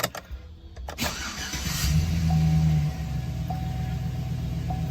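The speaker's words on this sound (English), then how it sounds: "we'll start the vehicle up now that we know that we have an acceptable amount of oil in the engine" A 2007 Chevy Silverado engine starts just after its oil level sensor is replaced: a few clicks, then a short crank, and the engine catches and revs before settling into a steady idle nearby while a warning chime sounds.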